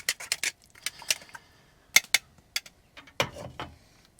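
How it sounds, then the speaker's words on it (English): Hand-crank food strainer pressing cooked tomatoes into soup at a camp cooking spot: irregular close clicks, creaks and squeaks of the turning mechanism with short gaps between them. "It's got a little hand crank on it so that I can help move the stuff through the strainer."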